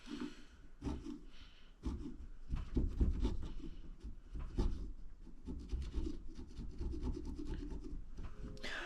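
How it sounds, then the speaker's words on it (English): Scraping a small gasket off an old tiller, heard as close, repeated rasping strokes in an uneven rhythm, fairly loud and steady with short pauses, with no talking. "Now the 2-hour long process of trying to get this little gasket off."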